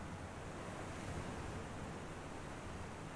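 Open-sea waves wash in a steady, dense roar that never breaks into separate crashes, heard alone for a few seconds without any voices.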